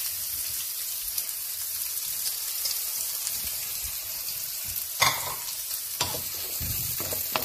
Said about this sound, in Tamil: இதுக்கு நாங்கள் இப்போ இந்த வெங்காயத்தை போட போகிறோம்.